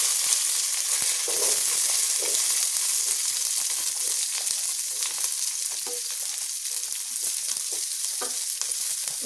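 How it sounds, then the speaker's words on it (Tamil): Shallots, garlic and curry leaves sauté in hot oil with mustard seeds and fenugreek, giving a steady, dense sizzle and crackle throughout, with occasional spoon scrapes and pops close by and no talking. "சின்ன வெங்காயத்தில் வதக்கிட்டு கல்லுப்பு சேர்த்து வதக்கினா சீக்கிரம் நல்லா வதங்கிடும்"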